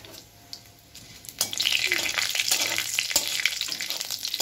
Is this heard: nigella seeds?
yes